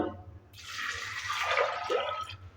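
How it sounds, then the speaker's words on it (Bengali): Water poured into a pressure cooker holding kidney beans gives a steady, close splashing hiss that lasts about two seconds before stopping. "এবার কুকারের মধ্যে রাজমাগুলোকে দিয়ে দিচ্ছে দিয়ে দিচ্ছে জল"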